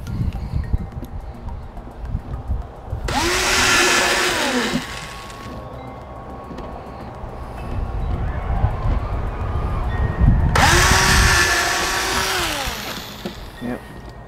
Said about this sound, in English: don't forget to drill hole in the bottom also